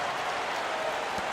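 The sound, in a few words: Oklahoma City crowd cheering in video game NBA 2K15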